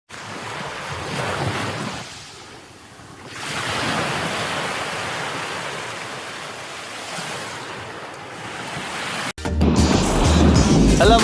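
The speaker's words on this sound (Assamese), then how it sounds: "মই এতিয়া সাগৰৰ নিচেই কাষতে আছোঁ। এইবোৰ সাগৰৰ পানী।" Sea waves wash steadily against the shore beside a beach near Pattaya, a broad continuous roar of surf with gusts of wind buffeting the microphone, swelling louder toward the end.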